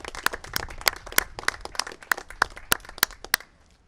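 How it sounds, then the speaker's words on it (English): Press conference attendees clap briefly, a sparse scatter of about a dozen loud, close, irregular claps that fade out within a few seconds. "Let's give them a second round of applause."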